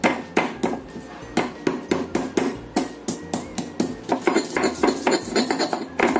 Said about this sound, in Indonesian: Di sini aku siapkan 3 siung bawang putih. Ini kita ulek halus dahulu.